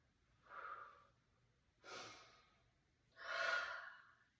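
Slow, relaxed breaths drawn in and let out, three soft airy swells spaced evenly and close by, each rising and fading gently with quiet pauses between, no talking.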